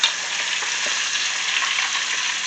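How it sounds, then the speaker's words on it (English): A pork chop fries in a pan, a loud, steady, dense sizzle that runs unbroken from start to finish with no one talking. "I'm going to flip our pork chop so we can start browning the other side."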